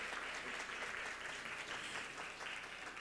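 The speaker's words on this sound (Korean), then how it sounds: "오늘 우리 참가자분들께 다시 한번 박수 부탁드리겠습니다" At an awards ceremony for a student AI debate and paper contest, the audience gives steady applause, a soft, even wash of clapping heard at a distance.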